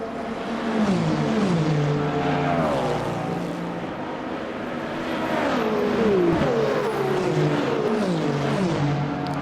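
Race car engines in Le Mans Ultimate, a racing video game, roar steadily at the start of the 24 Hours of Le Mans, rising and falling in pitch as they shift and rev, loud and continuous throughout with no talking.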